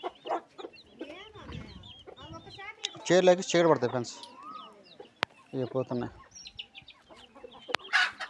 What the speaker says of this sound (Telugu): ఈ పుంజులు పోతున్నాయి ఫ్రెండ్స్